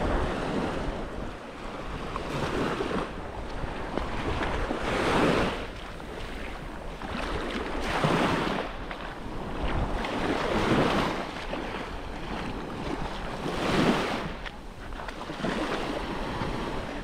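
Surf rolling onto Long Beach (Royal Beach, Saksan Beach) on Koh Rong, Cambodia: waves swelling and breaking in slow repeated surges under steady wind rumbling across the microphone.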